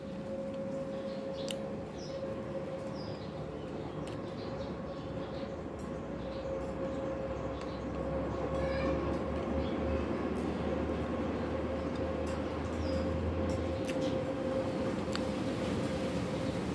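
A train passes at a distance, a low rumble swelling midway and fading later, beneath a steady mechanical hum and scattered small outdoor sounds.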